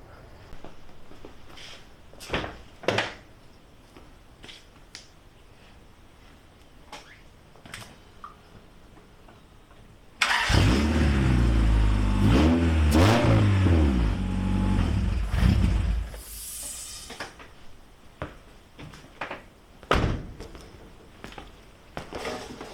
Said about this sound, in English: this motor, it runs, idles and revs